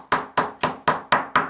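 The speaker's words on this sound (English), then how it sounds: "you're gonna hammer it, and you're probably gonna go through the foundation a few times" Hammer striking a beehive frame while fitting the wax foundation, six sharp evenly spaced blows in quick succession, close and loud with each impact ringing briefly, with no talking.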